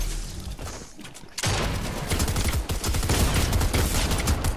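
Sustained, dense gunfire in a video game, a continuous roar of rapid shots that starts abruptly after a quieter moment and stays loud to the end.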